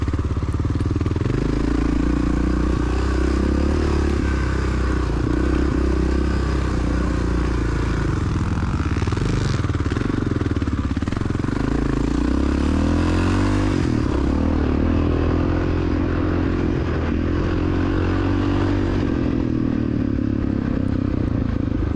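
Honda XR600R dirt bike ridden hard over rough, bouncy cross-country ground in a field, its engine droning continuously with rising and falling revs, plus rattles and scrapes from the bumpy terrain.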